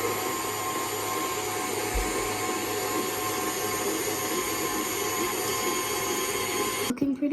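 An electric mixer whirs steadily through a flour mixture for baking, a constant humming drone with a steady high whine, ending in a brief clatter and knock.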